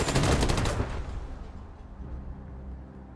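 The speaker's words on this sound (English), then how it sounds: "Can you reach that with your SMG?" Burst of SMG gunfire in the post-apocalyptic game Wasteland 3, a loud dense rattle of shots for under a second that then decays into a fading echo and rumble.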